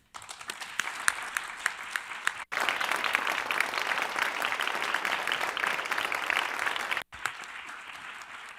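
At a UN event for persons with disabilities, a hall audience applauds with scattered individual claps at first, then a fuller, steady wave of clapping, broken by two brief cuts.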